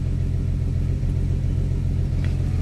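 A turbocharged 3.4-litre VR6 in an Audi TT idles at a steady, deep rumble after a warm start, continuous and fairly loud with no talking.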